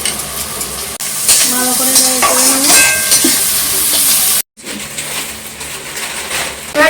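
Chopped onion and capsicum sizzle and hiss in a hot pan while being stirred, a steady loud fry with a voice speaking briefly over it and a short break before the sizzling resumes.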